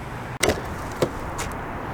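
The power tailgate of a 2024 Volvo V60 Cross Country closes with a brief motor whir, a firm thunk as it latches and a softer click after, close by in a quiet setting.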